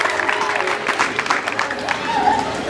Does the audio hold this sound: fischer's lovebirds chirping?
no